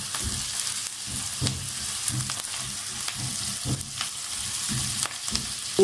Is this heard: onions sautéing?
yes